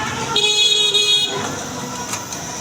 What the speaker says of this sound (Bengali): এটা হলো মেন রাস্তা।